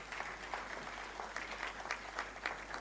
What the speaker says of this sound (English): A big clap for everybody